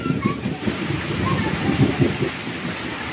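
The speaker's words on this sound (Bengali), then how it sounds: "ওঠার পর দেখতেছে যে বৃষ্টি, সাথে প্রচুর বাতাস।" Heavy rain pours down with strong wind, a loud, continuous close-up hiss with low rumbling gusts throughout.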